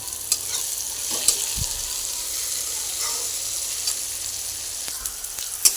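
Tomato and onion with a pinch of salt fry steadily in a pan for a chutney, giving a continuous soft sizzle with occasional spatula scrapes and taps, no voices.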